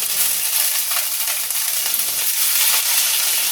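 Chopped leeks frying in hot oil in a pan, a steady loud bright sizzle and crackle filling the whole stretch without any talking.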